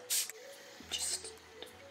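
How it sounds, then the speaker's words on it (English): A quick hiss of MAC Fix Plus setting spray misted onto a face, heard as a short close burst followed by a second softer puff, with faint voice murmurs in between. "I'm just going to spray my face with some MAC Fix Plus."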